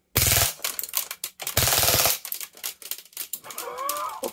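An Armorer Works VX0200 Glock 18C airsoft pistol fires full auto in two rapid, loud buzzing bursts with a pause between, followed by scattered clicks and mechanical handling.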